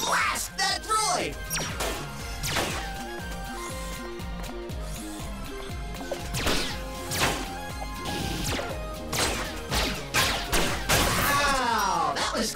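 Blasting a droid in the game Awesomenauts brings repeated sharp laser shots and impact crashes in bursts over busy electronic game music, loud and close throughout.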